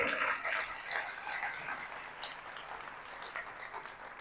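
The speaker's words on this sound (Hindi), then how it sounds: "ताली बजाइए पास्टर साहब के लिए" Applause from a church audience for a pastor, strongest at the start and fading to a quieter patter.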